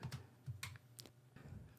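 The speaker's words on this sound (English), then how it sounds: "So I'm typing in my teacher's name." Someone types on a computer keyboard, with faint, uneven clicks and taps coming in small bursts over a quiet room.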